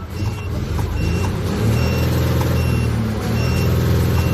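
A 360-horsepower tractor-unit truck with its original exhaust and muffler still fitted, revved and held near 2005 rpm: a loud, steady, low engine drone with repeated high beeping tones over it.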